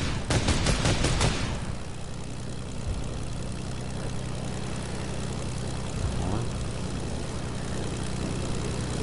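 Propeller airplane in Fortnite droning steadily throughout, preceded by a short rapid burst of gunfire at the start, with no talking.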